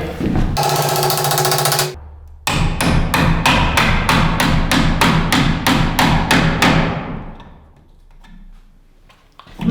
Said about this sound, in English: that's easier than trying to hammer it inside a stud bay